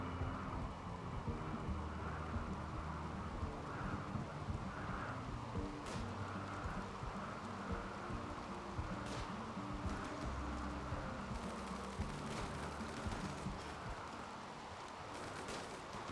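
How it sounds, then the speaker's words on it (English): Steady rain in the RimWorld video game, a continuous dense hiss with occasional louder crackles, even and unbroken throughout. "the good news is it's raining"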